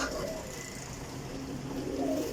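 Pigeons coo softly and steadily at a loft in Sarai Alamgir, Jhelum, with low murmuring calls running throughout and a faint voice in the background.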